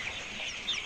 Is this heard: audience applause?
no